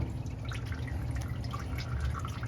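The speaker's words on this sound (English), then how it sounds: "Then oil gonna drain out of there." Engine oil draining out of a truck during maintenance, a steady, fairly quiet trickling pour with a faint dripping texture, continuous throughout with no talk.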